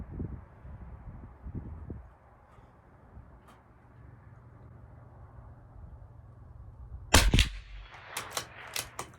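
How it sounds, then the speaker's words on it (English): Rifle shots from a CZ457 firing SK High Velocity Match ammunition at a 50-yard range, several sharp cracks in close succession near the end after a quiet stretch with faint background noise. "Let's just get 10 more shots, hopefully on center this time."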